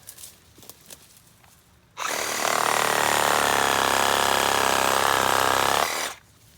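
A DeWalt 20V Sawzall reciprocating saw fitted with a 12-inch Diablo carbide blade cuts low to the ground, near the dirt, roaring loud and steady for about four seconds after a quiet start, then stopping abruptly.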